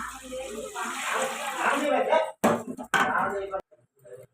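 Water pours and splashes into a metal vessel in measured lotas for bagara rice, with light clinks, while someone talks over it; the pouring stops briefly and then resumes.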